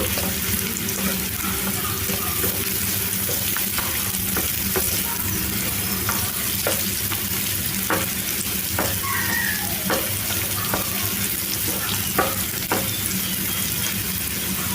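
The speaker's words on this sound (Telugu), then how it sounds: "ఒక ఐదు నిమిషాలు వీటిని ఈ ఆయిల్లో ఫ్రై చేసుకోవాలి" Bitter gourd pieces fry in oil in a pan, a continuous dense sizzle with scattered sharp crackles and occasional stirring scrapes, close and steady throughout.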